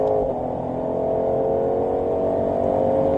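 Ford Mustang GT500 with a 760 hp engine accelerating on the Nogaro circuit, a steady loud engine drone that holds close and even throughout with no voices.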